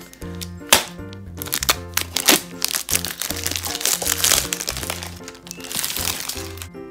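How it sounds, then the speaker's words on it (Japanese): A new Captain Stag army-style mess tin being unwrapped from its packaging, with loud close crinkling and crackling of plastic in irregular bursts and a few sharp cracks, no speech. "じゃあ早速ね、開封してみましょうか。"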